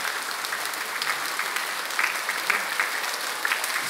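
Audience members at a conference lecture clap their hands rapidly and continuously during a timed exercise, a dense steady clapping at moderate level with occasional louder bursts.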